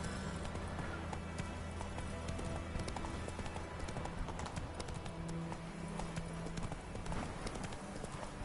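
Rapid hoofbeats of a horse galloping in The Witcher 3 video game, a steady clip-clop rhythm running throughout, with faint game background sounds.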